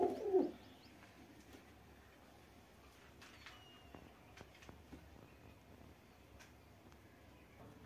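Soft, low cooing of pigeons in a quiet outdoor space, with a brief louder burst at the start and faint scattered chirps and ticks after.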